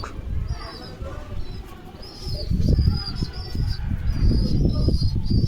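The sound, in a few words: pigeon cooing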